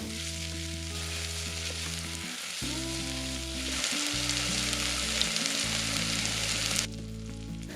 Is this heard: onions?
yes